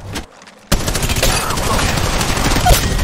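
Rapid automatic gunfire in the mobile battle-royale game Apex Legends Mobile during ranked play, a quiet pause then a loud, dense, sustained burst of shots filling the rest of the moment.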